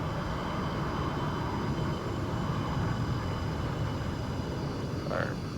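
A Dash 8 in a flight simulator roars loudly and steadily with its thrust reversers deployed on landing, a continuous broad engine rush with no pauses.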